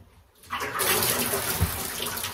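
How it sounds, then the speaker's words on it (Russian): Water pouring out of a full container into a drain at home, starting after a brief quiet moment and then rushing steadily and loudly to the end. "Так, сейчас, друзья мои, я воду вылью."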